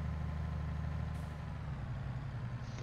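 Truck engine in Farming Simulator 22 idling with a steady low rumble and faint hiss, close and continuous throughout.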